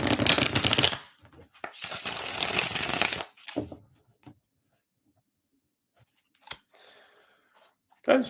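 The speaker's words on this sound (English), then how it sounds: "I need to reshuffle the cards." A tarot deck is reshuffled in two loud, close bursts of riffling card rustle, then comes a stretch of near silence broken by a few small handling taps.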